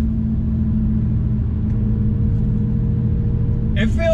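A 2009 Audi S5 engine pulls hard under acceleration, a steady loud low drone filling the cabin, with a brief higher sound near the end.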